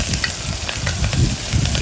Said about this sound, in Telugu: బాండిలో ఆయిల్ వేసి ఇలా పోపు దినుసులు కూరగాయ ముక్కలు అన్నీ వేసి బాగా దోరగా వేయించుకోవాలి